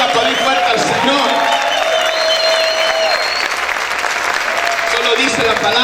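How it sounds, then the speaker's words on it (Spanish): A church congregation claps loudly for the Lord in a sustained, dense burst of applause with some cheering, while voices carry over the top throughout. "A ver cuántos pueden aplaudir fuerte al Señor."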